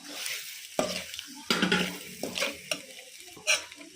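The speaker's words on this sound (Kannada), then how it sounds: "ಕೊತ್ತಂಬರಿ ಹಾಕೊಂಡು ಮಿಕ್ಸ್ ಮಾಡ್ಕೋಬೇಕು." Egg fry with coriander being stirred in a pan, several sharp spatula scrapes and clinks against the metal over a soft sizzle, close and fairly loud, without talking.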